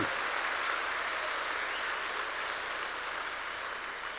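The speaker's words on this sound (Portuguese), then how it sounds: "Eu acho que essa é a única igreja que aplaude esse tipo de coisa." Steady applause from a church congregation during a sermon fills the space, a dense wash of clapping that holds evenly throughout and eases off only slightly toward the end, with no talking over it.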